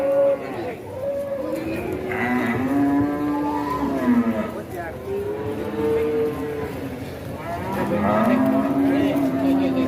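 Several cattle, including a black cow, low repeatedly in long drawn-out moos, close and loud over a busy background of crowd chatter.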